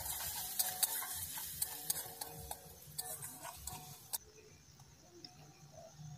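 Chopped onion with ginger-garlic paste frying in the same wok that browned paneer for palak paneer, giving a soft steady sizzle broken by sharp clicks of a spatula stirring against the metal.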